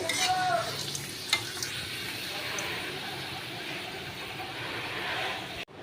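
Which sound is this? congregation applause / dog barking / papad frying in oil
papad frying in oil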